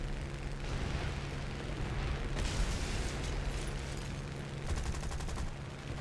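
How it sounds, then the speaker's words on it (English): Machine-gun fire from a War Thunder aircraft armed with twelve guns: quiet, steady noise broken by two rough, rattling bursts of rapid fire in the middle and near the end. "it has, I think, 12 machine guns, so it does have a lot of firepower"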